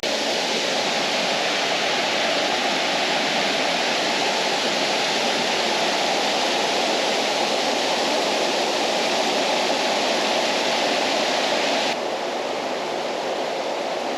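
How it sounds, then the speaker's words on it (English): A waterfall on the Fiery Gizzard Trail rushes in a loud, steady wash of broadband noise, constant and close for the whole stretch. "Waterfall"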